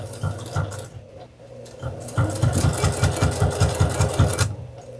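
A sewing machine stitches a reversible Halloween table runner made from fat quarters in short bursts of rapid needle pulses, the last burst long and steady, heard close up with a quiet gap between runs.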